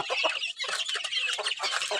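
Chickens being fed in the evening give off busy clucks and clucking chatter up close, in a quick overlapping flurry with no voices.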